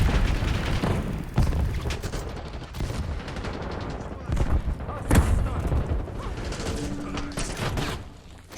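Call of Duty Vanguard match with dense gunfire and a flashbang blast, loud bursts and booms layered over continuous game noise, with voices talking throughout.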